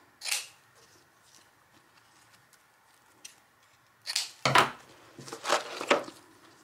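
Scissors cut ribbon bows for a light-up candy cane craft: a single quiet snip near the start, then a cluster of crisp, close cutting snips over the last few seconds, with no talking.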